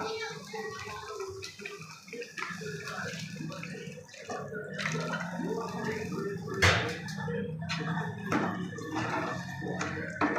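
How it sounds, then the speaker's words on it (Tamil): Water pours and splashes into a cooking pot with salt, running steadily with some clatter of utensils nearby; no one speaks. "உப்பு சேர்த்து தண்ணி சேர்த்திக்கலாம்"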